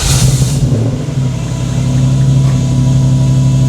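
A Toyota farm truck swapped with a 1UZ V8 and fitted with a custom sleeper exhaust fires up and settles into a loud, steady, low idle that runs unbroken and close by, with no talking.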